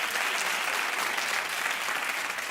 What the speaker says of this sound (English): you can clap if you mean that